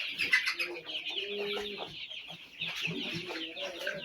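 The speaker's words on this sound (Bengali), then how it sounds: "এই যে মুরগির বাচ্চাটি দেখাচ্ছি" Chickens on a poultry farm clucking close by in a continuous, busy run of short calls mixed with thin chirps, with no clear pauses.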